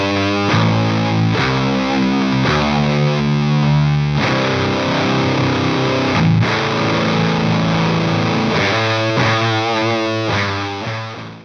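An electric guitar plays through a Kaputt Monkey Fuzz pedal, giving a loud, thick, heavily distorted tone as chords are strummed and sustained in a steady rhythm throughout.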